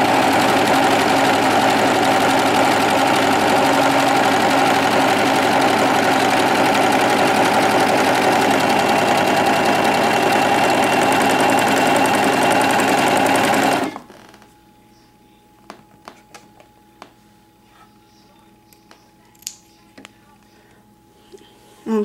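A Singer Professional 5 serger runs a 3-thread overlock on fabric, a loud, steady, rapid mechanical whirr that holds for about fourteen seconds, then stops abruptly, leaving only faint clicks and handling sounds.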